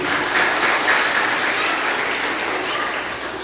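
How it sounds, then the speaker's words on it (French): An audience at a church revival evening claps in a steady, full round of applause that stays even and continuous throughout its few seconds. "On nous applaudit, Seigneur."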